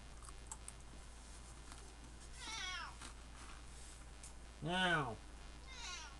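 A house cat meows a few times, two or three drawn-out wavering cries with a louder one near the end, set against quiet room hiss and faint tapping.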